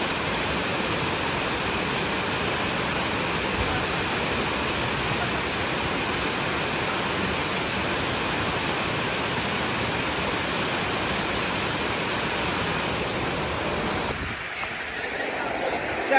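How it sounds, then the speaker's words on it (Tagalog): Hulugan Falls in Laguna roars with a dense, steady rush of falling water, close and loud, continuing unbroken for the whole stretch before softening slightly near the end. "Ang ganda ng Hulugan Falls."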